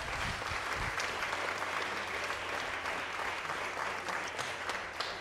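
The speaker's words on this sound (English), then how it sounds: "if we just give all of them a huge round of applause" Applause from an audience at a school keynote summit, steady and dense throughout, a broad wash of many hands clapping at once without a break.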